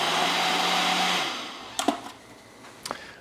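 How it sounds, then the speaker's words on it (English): A blender making a smoothie whirs steadily for over a second, then winds down, followed by a few short clinks and knocks. "Put it in the blender"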